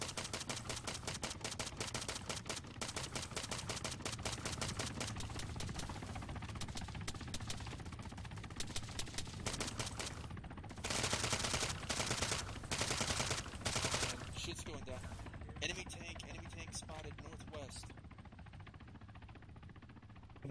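Rifle fire in a tactical video game crackles in rapid, sustained bursts and fusillades, with denser automatic volleys midway and scattered shots trailing off.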